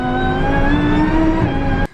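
A car fitted with a VF Engineering supercharger roars loudly and steadily up close for about two seconds with a rising whine, then cuts off abruptly.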